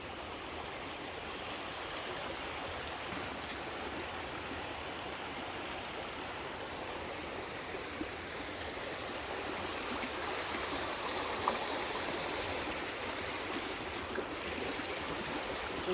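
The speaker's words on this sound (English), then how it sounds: "a beautiful waterfall that I called Kermoa Falls" Waterfall on a salmon fishing river in the green Ellidaardalur valley near Reykjavik, Iceland, a steady broadband rush of falling water that fills the scene without pause, slightly swelling in the second half, with no voices.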